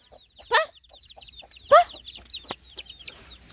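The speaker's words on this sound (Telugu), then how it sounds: "నాకు కోడి పిల్లలు వచ్చేసి బయటకు పోయినాయండి" Chickens and a brood of newly hatched chicks cluck in short, repeated bursts close by, with two louder squawks standing out over a steady background of chirping chicks.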